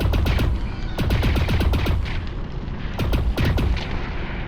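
Firearm discharging in the VR video game Lone Echo 2, rapid automatic bursts of sharp shots with booming tails, three volleys separated by brief pauses, loud and close.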